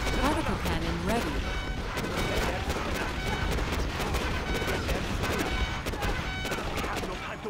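Rapid bursts of particle cannon fire in Command & Conquer Generals Zero Hour crackle and boom in a dense, continuous barrage, loud and close, with voices shouting underneath.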